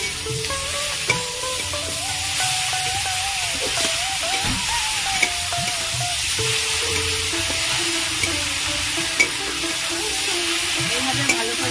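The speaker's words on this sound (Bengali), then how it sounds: "এইভাবে ভালো করে নাড়াচাড়া করে মিশিয়ে নেবো সব জায়গায় পেঁয়াজ কালির সাথে" Khesari (kheshari/teora) greens being stirred and fried with onion in a kadai, with a steady sizzle and scraping stir strokes throughout, alone and close.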